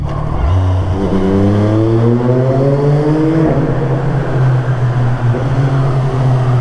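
A Kawasaki ZX-4RR motorcycle cruising through Paris streets, its engine droning steadily close by with a clear rising tone as it accelerates through the gears, no talk over it.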